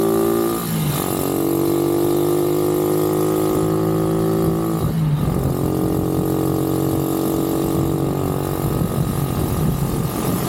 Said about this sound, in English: You could still hear a lot of engine noise, and it actually sounded pretty clear and pretty good to me.